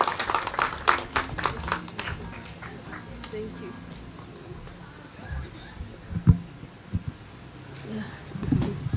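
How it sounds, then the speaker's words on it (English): Audience applause at a World Kidney Day celebration, a burst of scattered clapping in the first few seconds that thins out and fades, followed by room murmur and a few stray thumps. "A loud of applause,"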